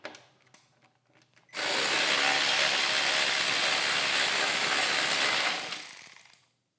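A few light clicks, then a loud, sustained ratcheting whir for about four seconds as a ratchet spins off a 5/16 nut holding a trim piece on a 2014-2024 Harley-Davidson Road King, fading at the end.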